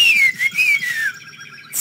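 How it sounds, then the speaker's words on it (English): A person in The Longest Journey video game whistles a sliding, wavering tune for about a second, loud and close, then breaks off into quiet. "Can you whistle? Like this?"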